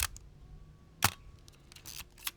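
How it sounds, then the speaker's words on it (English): A Minolta XG-7 SLR film camera fires its shutter in several sharp mechanical clicks, one loud and close near the middle and fainter ones around it, against a quiet room hum. "so the shutter works, all the shutter speeds works on this camera"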